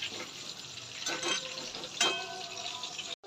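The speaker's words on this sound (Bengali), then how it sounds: "নেড়ে দেবো এরকম করে" Masala frying in a pan with potol (pointed gourd) and green chillies for a chicken kosha dish, a steady sizzle with a couple of louder stirring scrapes, ending in a brief cut.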